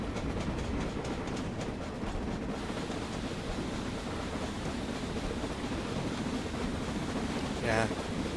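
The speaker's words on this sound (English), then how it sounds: "Sounds like the loco has a softer note to it." A steam locomotive runs on Western Scotland lines with a soft, continuous rumble and rolling rail noise, heard steadily throughout at moderate distance, with a brief higher whistle-like tone near the end.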